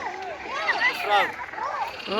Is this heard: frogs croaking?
yes